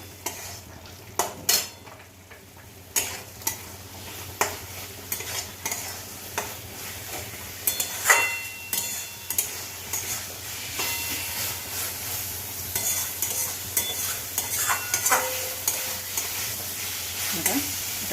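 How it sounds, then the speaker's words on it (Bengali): Potatoes stir-fried in oil in a pan for a Bengali bhetki fish curry, giving a soft steady sizzle under repeated scrapes and clinks of a spatula against the pan, fairly quiet throughout. "আলুগুলো দিয়ে আরেকটু কষে নেবো"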